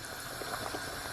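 Pigtail simmers in a pot of water, giving a steady low bubbling boil with faint gurgles, close and continuous with no voices.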